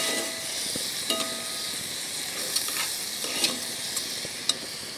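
Tomatoes cooking in a Konkani-style jackfruit curry are stirred in the pan, giving a steady soft sizzle with a few light scrapes and clinks of the spoon, close and fairly quiet.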